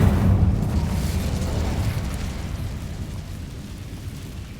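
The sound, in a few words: Incendio fire spell in Hogwarts Legacy video game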